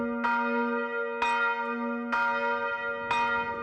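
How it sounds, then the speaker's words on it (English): Church bell in a village cemetery bell tower in the small Dutch town of Oosterwierum, tolling four clear strokes at an even pace, each ringing on with a long humming decay, fairly distant and alone. "a bell tower stands guard over the village cemetery,"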